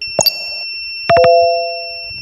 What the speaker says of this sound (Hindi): जब सालाइन ख़त्म हो जाएगा तो क्या है, बजर बजेगा।